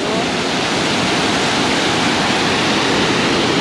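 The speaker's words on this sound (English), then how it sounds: "Look at the water blasting all that rock out there." Ocean water pounds against rocks off the Hawaiian coast, a loud continuous roaring wash of surf that fills the whole stretch without pause.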